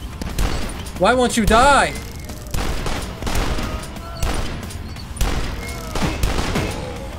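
Repeated heavy blasts from a super shotgun in the shooter game DUSK, loud booming shots spaced a second or so apart amid other game noise, with someone talking over the gunfire.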